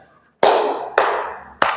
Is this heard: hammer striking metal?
no